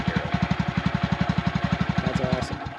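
Small Honda motorcycle engine, either a Monkey or a Grom, running just after starting, a rapid, even thumping pulse close up, with a faint voice near the end.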